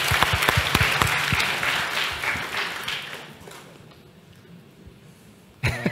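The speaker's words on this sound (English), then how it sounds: "Yes, big applause to these guys." Audience applause for the speakers at the closing of the jPrime 2022 conference, full clapping that fades out over a few seconds, then a sudden sharp sound at the very end.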